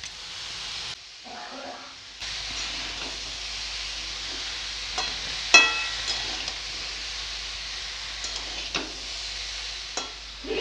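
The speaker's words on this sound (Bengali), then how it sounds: "এবারে কেটে রাখা বাঁধাকপি আর আলু দিয়ে দিব।" Chopped cabbage and potatoes go into a frying pan and settle into a steady close hiss of frying, with a few stirring scrapes and clicks over a continuous sizzle.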